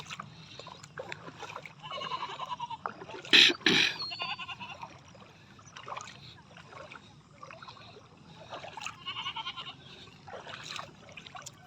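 Goats being led out in the morning for Mattu Pongal bathing in a village bleat in scattered calls, near and moderately loud, with water splashing and people talking around them.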